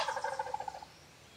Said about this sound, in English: Turkeys gobble a lot off the roost.